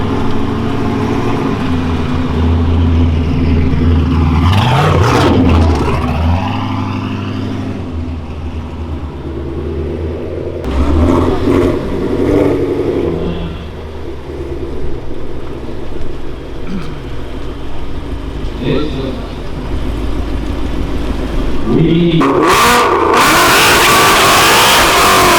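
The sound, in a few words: loud cars revving engines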